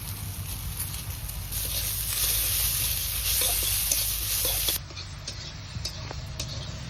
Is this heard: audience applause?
no